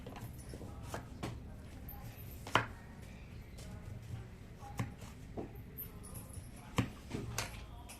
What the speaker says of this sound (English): Now I have chopped my yellow squash.